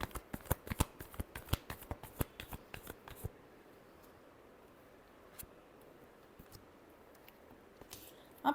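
Tarot cards riffled and shuffled in a quick run of sharp crisp flutters for about three seconds, then quiet handling rustles and a few soft taps.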